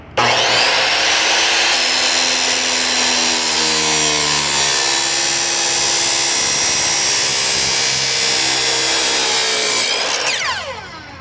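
A power saw cuts through a bronze bar meant for a wind chime, a harsh, steady metallic whine with ringing overtones that holds for about ten seconds and then winds down.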